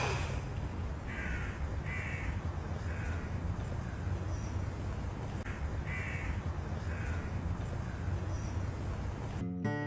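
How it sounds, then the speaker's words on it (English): Several distant crow caws sound in short bursts over a steady outdoor rumble with wind, as a man sits in a park in a scene from the film The Rite. "sitting in the park, a crow rings in the distance, and Michael turns his head"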